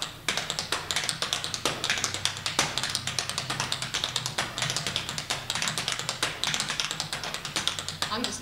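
Tap dancing feet on a hard floor working a scuffle into the step, producing quick crisp taps and brushing scrapes in a continuous rhythmic pattern, near and clear throughout.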